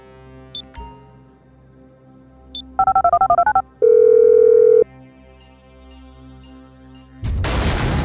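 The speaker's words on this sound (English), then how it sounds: "I'm making the call." A telephone call is dialed in GTA V: a couple of brief beeps, then a quick run of dialing tones, a steady ringing tone for about a second, and finally a loud burst of noise.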